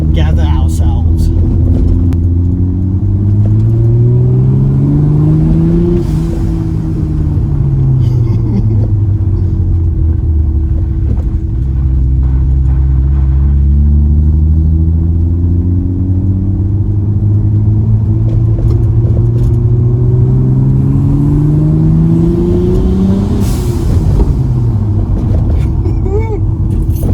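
A Mercedes C180 with a turbocharged M104 engine drives and accelerates, its loud engine note rising and falling through repeated gear pulls over steady road rumble, with voices in the cabin.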